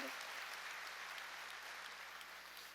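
Church congregation applauding at a New Year's Eve service, a faint, even wash of many hands clapping that holds steady and fades slightly toward the end.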